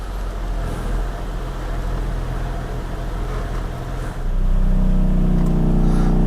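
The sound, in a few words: car engine idling in gear with AC on, harsh vibration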